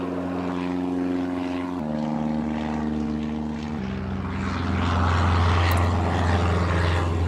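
Propeller airliner engines in the Airport Madness game spool up for takeoff, a loud steady droning hum with stepped pitch changes that swells louder near the end, no voices.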